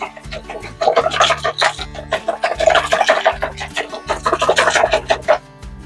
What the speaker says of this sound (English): I'm gonna give it another little whisk